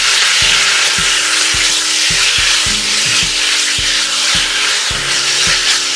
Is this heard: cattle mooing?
no